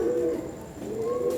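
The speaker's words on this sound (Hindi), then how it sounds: "ये मेरे संदूरी पलक वाले कमगर कबूतर हैं।" Red-eyelid Kamgar pigeons coo nearby in two soft, low, rolling phrases with a short pause between them. No one speaks.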